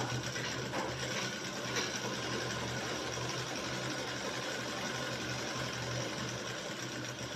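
A sewing machine stitches a second seam a quarter inch below the first along a shirt collar band, a quiet, steady rapid whirring and clatter running continuously.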